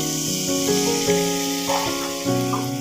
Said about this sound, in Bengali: আমি অল্প গ্রেভির জন্য জল দিয়ে দিচ্ছি।